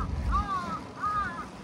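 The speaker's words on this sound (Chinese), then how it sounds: "哇，这大黑乌鸦！" A large black crow caws twice beside a quiet high-altitude road in Nyingchi, Tibet, each call a drawn-out harsh note, clear and moderately near over faint background rumble.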